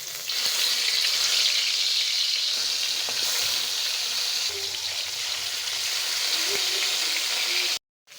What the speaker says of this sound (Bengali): তো মাছগুলো এক এক করে এখানে ভেজে নেব